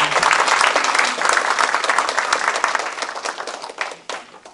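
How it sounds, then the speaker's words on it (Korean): Residents of Eojin-dong give a welcoming round of applause at a citizens' dialogue event, dense clapping from a room-sized crowd that holds steady and then thins out toward the end, with no talk. "다같이 환영의 박수 부탁드립니다."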